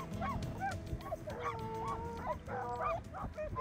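A pack of hunting hounds follows a hare's trail in the Cantal countryside, giving a steady run of baying yelps that sound fairly distant and overlap one another.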